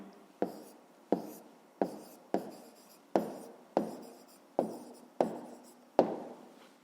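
Nine quick, evenly spaced strokes of a pen or pencil on paper as an answer is written out by hand, each a short scratchy burst with a sharp start, close and fairly quiet, with no talking.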